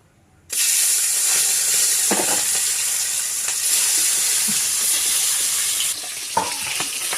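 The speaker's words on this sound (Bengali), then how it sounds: "এখন ভাজা দেবো। এই পাশে তেলও গরম হয়ে গেছে" Kain fish dropped into hot oil, erupting into a loud continuous sizzle that holds steady, with small crackles and a faint scrape of stirring.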